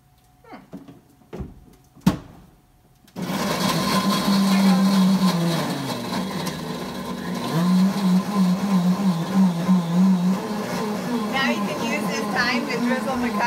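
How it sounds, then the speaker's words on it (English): A blender switches on after a few soft clicks and knocks and runs loudly for about ten seconds, its motor pitch dipping and rising as it blends a caramel coffee drink. "If we turn our blender on."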